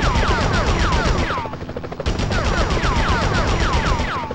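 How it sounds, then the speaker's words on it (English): Rapid bursts of gunfire from the PS1 Spider-Man video game rattle on loudly and nearly nonstop, mixed with swooping synth game sounds, dropping briefly about a third of the way through before resuming at full intensity. "Enough with the shooting already!"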